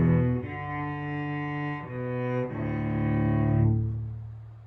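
A solo cello plays bars 4 and 5 of a fiddle tune, with slow, sustained bowed notes changing a few times, rich and close, fading at the end without any voices.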